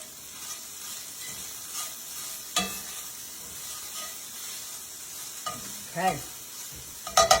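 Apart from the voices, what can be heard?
onions and vegetables frying in pan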